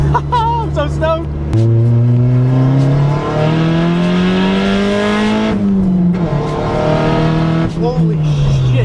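A turbocharged stock Honda Civic pulls hard under boost, its loud engine note climbing steadily in pitch through two long gear pulls with a brief shift break, close and dominant, with voices heard at the start and end.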